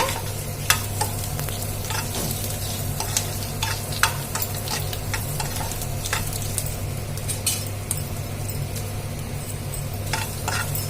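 Onions and chillies frying in oil, a steady close sizzle running throughout with occasional scraping clinks of a spoon stirring the pan, no voices heard.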